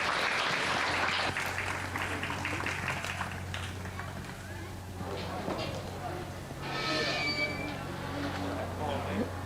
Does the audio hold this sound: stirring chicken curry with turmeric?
no